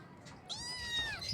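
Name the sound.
kitten meowing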